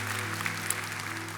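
Faint applause from a church congregation during a Sunday worship service, a soft continuous patter of clapping under a low hum.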